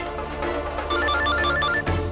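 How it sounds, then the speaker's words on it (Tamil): A telephone rings with an incoming call in a Tamil TV drama scene, a steady repeating electronic ring that cuts off abruptly near the end, loud and close with no talk over it. "ஏதோ கால் வருது"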